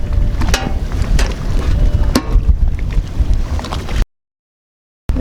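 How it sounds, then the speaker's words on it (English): Wind buffets a boat lying at anchor, giving a constant rushing roar with a few sharp knocks and creaks, loud and close, then a sudden gap of silence near the end. "It's a little windy tonight,"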